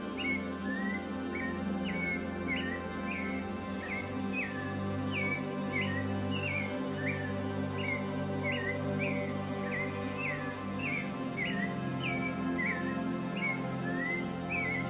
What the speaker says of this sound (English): the clay colored thrush takes center stage. It sings a beautiful melody